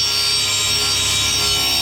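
A track saw cuts a piece of wood in half, a steady, loud whine that runs unbroken from start to finish with no pauses and no voices over it.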